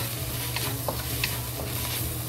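Spinach and egg fry in a hot pan with a steady, close sizzle, broken by a few soft scrapes of stirring, with no voices over it.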